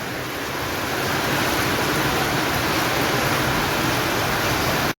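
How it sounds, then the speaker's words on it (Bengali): Heavy rain at Shantiniketan railway station: a dense, steady broadband patter and wash, loud and unbroken, cutting off abruptly at the end. "ভালোই বৃষ্টি হচ্ছে।"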